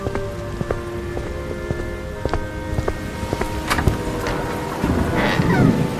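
Heavy rain pours steadily, a dense hiss of drops pattering on surfaces, with occasional louder splashes and knocks near the end.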